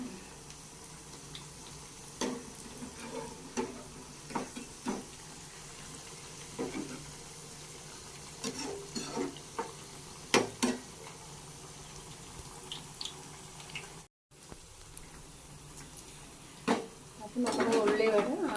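Onion vada sizzles in hot oil, a soft crackling fry with scattered pops and occasional stirring or turning clatters, fairly quiet throughout, while a person talks intermittently and a brief dropout occurs near the end.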